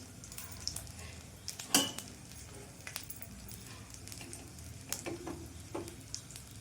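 Fish fries in a small amount of oil in a pan, giving a soft, steady close sizzle with scattered light clinks of a spatula or utensil and one sharper knock partway through.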